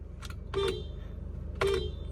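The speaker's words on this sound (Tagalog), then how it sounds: "Anya busina tong i-try kung madungog ba." A 2022 Nissan Navara Pro-4X's stock horn honks twice, short toots spaced about a second apart over a low idling engine hum.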